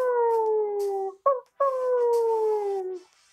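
A howl with a long sustained tone that slides slowly downward, breaks off briefly with a short yelp-like burst, then resumes and fades. It sounds close and fairly loud with no talk over it, and it may be a person imitating an animal howl for a trivia sound clue.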